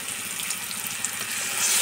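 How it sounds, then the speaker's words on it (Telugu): Water poured into a pan of prawn curry gives a steady, close splashing hiss that runs throughout and swells slightly at the end, with no voices over it. "ఇప్పుడు ఇందులో మనం కొంచెం వాటర్ యాడ్ చేసుకుందాం."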